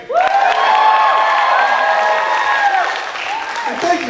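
At the Electric Pow Wow comedy show, the audience applauds and lets out sustained cheers and whoops. The noise is loud and steady, then eases toward the end.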